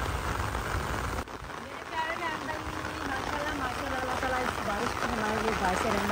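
Steady heavy rain hisses across surfaces in a Punjab village while a voice talks over it throughout.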